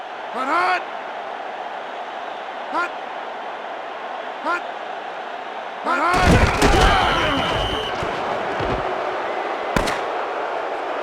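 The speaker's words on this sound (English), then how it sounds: "There's the final gun, and this game is history." In a college football video game, TCU at Texas, a sharp final gun blast cracks loudly near the end, following a burst of crowd and impact noise, while an announcer's voice and bursts of sound run through.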